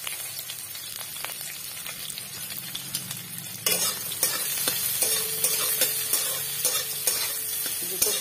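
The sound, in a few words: chopped onions frying and being stirred in a pan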